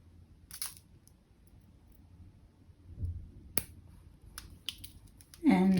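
Scissors snip loose beading thread ends, giving a few sharp, isolated clicks close by in a quiet room, followed by a louder rustle of handling at the end.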